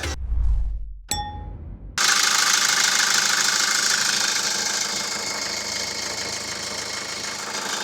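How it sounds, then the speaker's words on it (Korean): Engine of a 2013 Kia Carnival R 11-seater running under the open hood, a loud steady drone after a couple of short metallic clanks and a ding at the start. "어우 엔진 소리 좋죠 이렇게 연식이 오래됐는데도 엔진 소리도 좋고"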